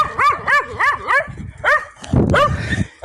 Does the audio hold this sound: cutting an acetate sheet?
no